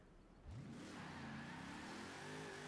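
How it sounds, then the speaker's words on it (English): A car wheelspinning in sixth gear in Forza Horizon 4, a very light, high-power car: a faint engine snaps up from idle into a steady high-revving drone that climbs slightly in pitch. "It wheel spins in sixth gear."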